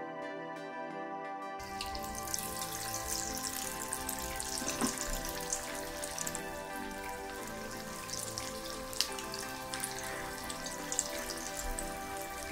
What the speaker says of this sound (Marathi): स्लो ते मीडियम गॅसवर आता फ्राय करून घेऊया।